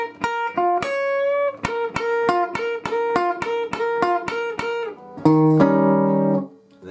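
An electric guitar plays a blues fill lick, a quick run of clean, close plucked notes in an uneven rhythm, ending on a ringing held chord.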